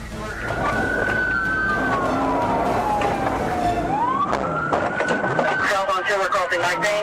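Police car siren wailing during a pursuit, rising and falling in long sweeps, loud and close, then shifting into quicker yelps amid road noise.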